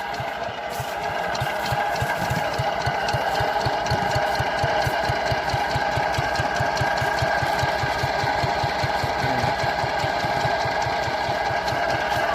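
A field plough machine's engine runs in a farm field, throbbing in a fast, even, knocking rhythm that holds steady and loud from start to finish with no voices.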